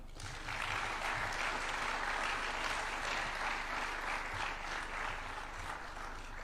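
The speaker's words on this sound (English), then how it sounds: "Another clap for him, even if just for the Swahili." Audience applause at a university technology launch event in Nairobi, a steady, even roar of many people clapping throughout, heard from some distance in a large space, with low hum beneath.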